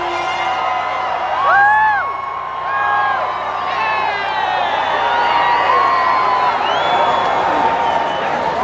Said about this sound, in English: Now, hundreds of thousands of revelers.